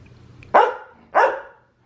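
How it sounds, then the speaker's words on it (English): A dog barks indoors at home: two loud, close barks about half a second apart, then the start of a third, with only faint room noise between them. "Started talking to my camera and he just starts barking."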